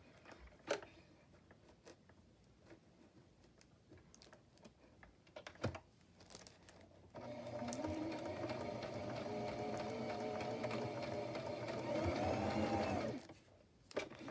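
Faint clicks and handling noises, then a sewing machine starts up close by, running with a fast steady whir for several seconds before stopping.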